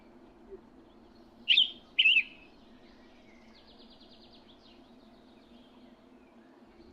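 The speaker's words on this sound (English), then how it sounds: "A bird." Two quick bird chirps in a video game, close together and clear over a low steady background hum, with a faint fluttering trill after.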